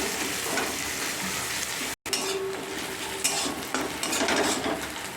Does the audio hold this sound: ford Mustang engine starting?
no